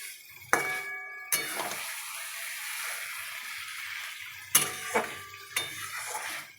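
Spices and potatoes are sautéed and stirred in a pan, a soft steady sizzle broken by several sharp clinks of a utensil scraping against metal, close and moderately quiet with no talking.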